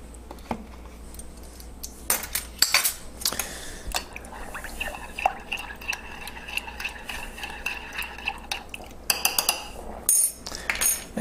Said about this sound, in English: add 2 tablespoons of yogurt.